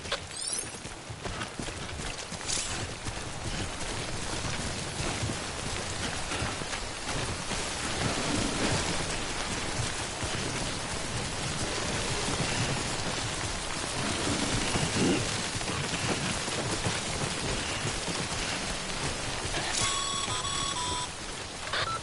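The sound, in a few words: rain in the video game Death Stranding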